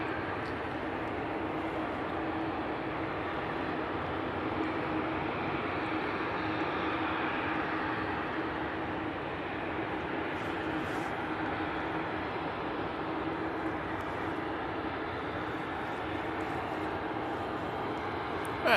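A Ryanair airliner on approach to the runway at Manchester Airport, a distant broad jet roar that holds steady and fairly faint throughout, with no talk.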